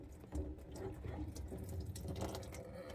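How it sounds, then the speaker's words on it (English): Water draining from a disconnected kitchen faucet supply line during replacement of a Moen Adler 87203 faucet, a faint, steady trickle and splash into a catch container under the sink, no talking. "You could either have a towel or some kind of container and so forth on there to catch that water coming out of there."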